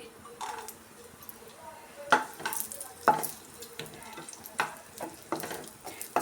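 Moong dal and raisins frying in a pan on a low flame for a sweet payasa, heard as a faint sizzle broken by repeated spatula scrapes and light clinks at an irregular pace.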